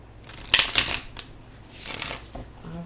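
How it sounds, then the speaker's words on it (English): Tarot cards are shuffled in a few quick riffling bursts, close and crisp, with brief pauses between them and no talking. "We're going to do 2 more shuffles"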